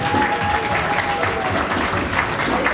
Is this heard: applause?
yes